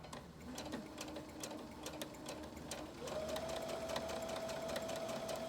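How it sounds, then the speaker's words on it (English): A sewing machine stitches a waistband along a folded edge in a steady run of fast, even needle ticks; the motor speeds up and hums a little louder partway through, with no talking. "Keeping the edge of my presser foot right along that fold, taking my pins out as I go."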